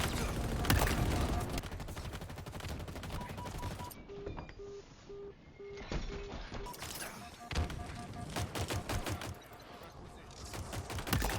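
Gunfire and a grenade blast in the video game Halo Infinite, with bursts of rapid automatic fire and mechanical clatter, then a short quieter stretch of game tones, then more dense firing.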